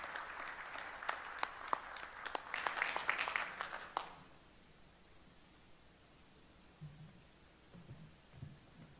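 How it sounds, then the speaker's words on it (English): A conference audience at the LANPAC '25 symposium gives General Brunson a round of applause: dense clapping for about four seconds, then it fades into quiet room noise with faint low murmurs. "Let's give General Brunson a big round of applause."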